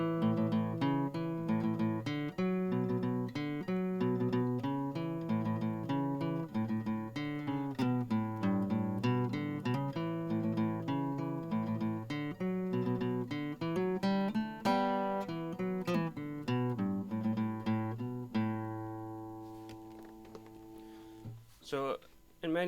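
Strummed chord accompaniment to the tune Mary's Fancy, part B: a quiet, steady stream of chords with a bright rhythmic pulse that continues evenly and thins out near the end.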